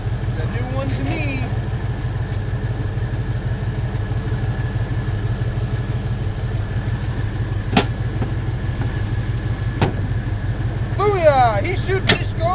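John Deere 800 swather engine running at a steady idle, a low continuous rumble throughout, with occasional sharp knocks and some voices talking over it.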